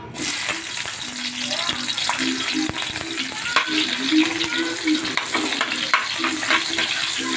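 Onions fry for sinigang sa miso, hissing loudly in a hot pan under frequent stirring and scraping. The sizzle is close and continuous, with only faint traces of voice.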